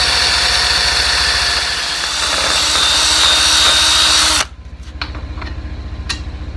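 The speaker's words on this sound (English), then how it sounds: "Drilling a pilot hole is a good idea anyways, even smaller than what we've done here." A power drill bores a pilot hole with a 23/64 inch bit for fitting a new lock, running loud and steady for about four seconds before stopping abruptly, followed by a few faint clicks and handling noises.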